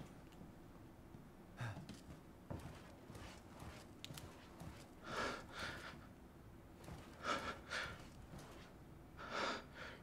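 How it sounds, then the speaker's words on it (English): The character Ethan in the video game Resident Evil Village breathes heavily in a string of harsh, uneven gasps and exhalations that come in clusters, close and moderately loud over a low ambient rumble. "Why are you breathing so hard?"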